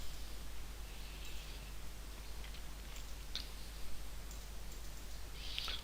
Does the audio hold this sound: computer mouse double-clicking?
yes